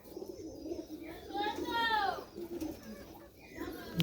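A Giribaz pigeon coos softly, a short rising and falling call near the middle, with voices murmuring close by throughout.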